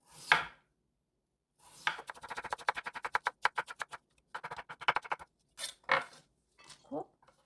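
A knife chops carrot into thin julienne strips on a board for a potato and vegetable pancake, giving brief bursts of rapid, evenly spaced taps separated by pauses, close and crisp with no talking.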